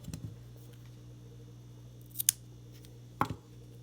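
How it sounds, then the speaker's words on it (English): Scissors snip through yarn-like material being cut off for miniature doll ear muffs, giving a few short, crisp cuts close by in a quiet room. "So now what I'm going to do is I'm going to cut it off right there."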